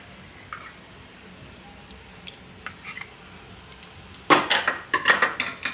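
Sukhdi roasting in ghee over a low gas flame, with quiet faint scraping early on, then a burst of louder clattering stirring strokes against the pan near the end.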